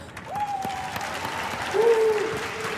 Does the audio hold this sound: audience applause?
yes